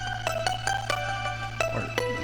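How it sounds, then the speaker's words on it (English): A plucked synth patch made in Vital plays short, bright notes in an uneven melodic rhythm over a steady low sustained tone, clear and unaccompanied by speech. "so I added this pluck on Vital,"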